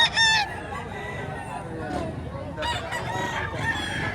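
A bulik rooster offered for sale at a poultry market gives a brief crow at the start, then clucks and cackles amid nearby fowl and background chatter.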